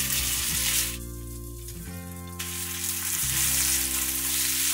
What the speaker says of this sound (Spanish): Y vamos a sofreír las salchichas.